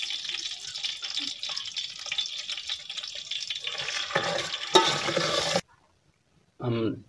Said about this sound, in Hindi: एक कप चीनी डाल देंगे, इसको मिक्स करेंगे